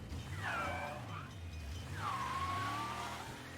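A car turning and skidding in the video game Mafia Definitive Edition, two rising and falling tire squeals over a low engine rumble, fairly quiet with no talk.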